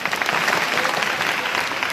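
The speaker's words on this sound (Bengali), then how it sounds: "ওর জন্য একটা তালি দাও" An audience at a puppet show claps together in a short, dense burst of applause, steady and close throughout the two seconds.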